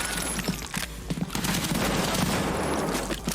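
Dense rapid gunfire rattles continuously in a video game, a loud steady barrage of overlapping shots with crackling impacts and no pauses.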